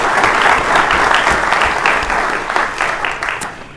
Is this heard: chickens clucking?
no